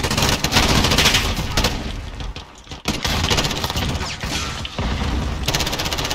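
Grenade blasts and gunfire erupt in a Modern Warfare match on the Shipment map; loud, dense bursts of rapid shots run almost without pause, with a brief lull near the middle before the fire resumes.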